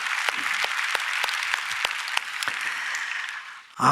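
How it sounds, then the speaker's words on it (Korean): A church congregation at a Sunday service claps in thanks after a prayer, a sustained wash of many hands, steady and moderately loud, tapering off near the end. "좋으신 하나님께 박수로 감사합니다"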